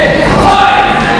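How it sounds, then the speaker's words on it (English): A wrestling crowd at a UWA Elite show cheers in a loud, dense, continuous roar of many voices filling the arena, with no single speaker standing out. "the crowd is eating it up"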